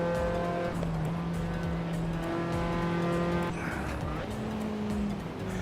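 A classic car's engine winds up through the revs in Assetto Corsa, a steady climbing harmonic drone with pitch shifts at gear changes, chasing a Mustang, with some tire noise and a voice talking over it.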